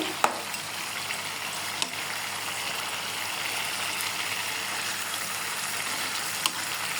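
Marinated chicken chaap sizzles and fries steadily in a pan on the stove, a dense continuous crackle with a few sharp pops, heard alone without talk.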